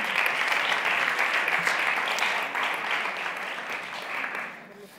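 An audience at an education event in Castilla-La Mancha bursts into sustained applause, dense clapping that holds steady for several seconds before tapering off at the end.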